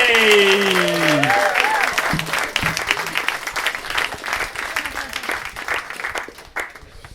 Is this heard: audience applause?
yes